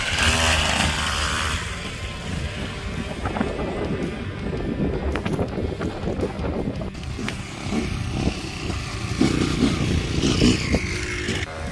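A SYX MOTO dirt bike engine is cranked and catches, giving a loud, buzzing, uneven idle with sharp revving bursts and wind rushing across the microphone outdoors.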